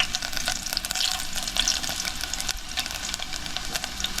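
Garlic frying in hot oil in a pan for a Konkan-style mango shrimp curry, a steady close crackling sizzle that runs without a break and with no talking.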